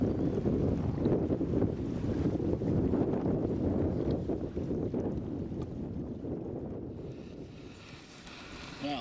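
Strong wind gusts roar steadily across the microphone at a lakeside campsite in Algonquin Park, a loud, continuous buffeting rush that eases slightly toward the end.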